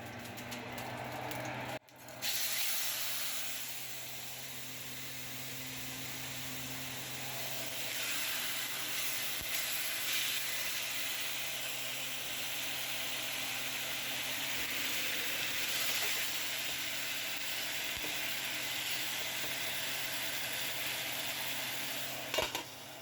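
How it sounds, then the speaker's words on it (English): Oil sizzles and crackles steadily for a long stretch as chicken fries in a skillet, close up, after a brief clunk at the start. "Once you hear that oil starting to pop and sizzle, that means it's time to drop your chicken."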